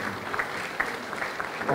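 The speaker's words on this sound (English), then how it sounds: "Give her a round of applause." Brief scattered clapping from a lecture audience welcoming a guest to the stage, light and steady before a slight swell at the end.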